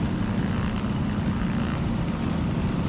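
An aircraft engine drones in Microsoft Flight Simulator, a steady, loud, low rumble that holds unchanged throughout with no talk.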